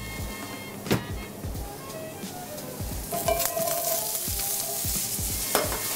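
Courgettes sauté in olive oil with a constant bright sizzle, punctuated by repeated scraping stirs and taps of a utensil, close and moderately loud with no voices.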